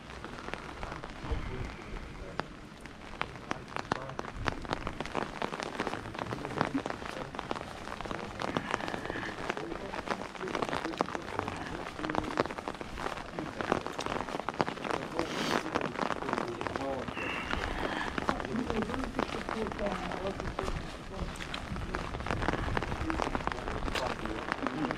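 Steady rain patters on surfaces around the Asenova fortress path near Asenovgrad in Bulgaria, a dense continuous drumming of drops close by with occasional louder splats.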